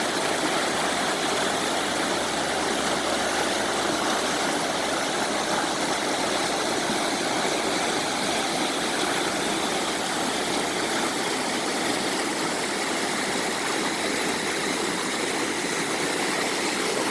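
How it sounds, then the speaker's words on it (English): A steady, loud rushing roar of flowing river water, constant and unbroken from start to finish. "listen to the rumbling of the river, how peaceful it is"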